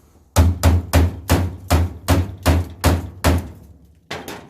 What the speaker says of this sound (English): I've been using an old scraper to hammer and bust those spot welds.